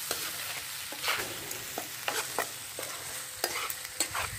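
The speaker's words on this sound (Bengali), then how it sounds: "লবণটা খুব ভালো করে কষিয়ে নিয়েছি, দেখুন তেলও ছেড়ে গেছে" Tomatoes with salt sautéing in oil in a pan for Bengali-style matar paneer sizzle continuously while a spatula stirs them with repeated scraping taps, close and moderately loud.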